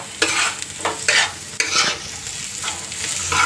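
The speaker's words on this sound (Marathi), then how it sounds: "कढईमध्ये कांदा, जिरं, हळद टाकलेली आहे, मिरची टाकली आहे" Onion, cumin, turmeric and chili sizzle in a kadhai while making poha, with close, repeated bursts of stirring and scraping over a steady frying hiss.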